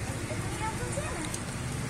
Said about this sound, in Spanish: empieza otra vez a llover, como ustedes lo pueden observar